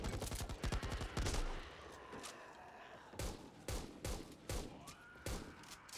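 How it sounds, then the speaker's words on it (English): A sawed-off shotgun blasts repeatedly in Back 4 Blood, a rapid burst of close, punchy shots at the start, then a series of loud separate booms spaced irregularly across the rest of the clip. "Sawed off shotgun here."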